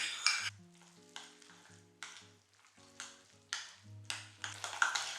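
A spoon stirs a pâté of grated cheese, grated processed cheese, garlic and mayonnaise, making quiet, rhythmic scrapes and taps against the bowl over soft background music, with no talking.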